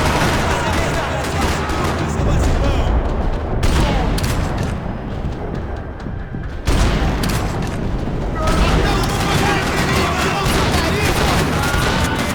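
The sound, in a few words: gunfire in a parking lot, from video game Max Payne 3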